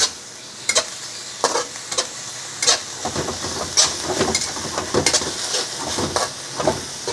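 Spicy string beans stir-fried with garlic in a pan sizzle steadily while a utensil scrapes and tosses them in repeated strokes, close up with no talking.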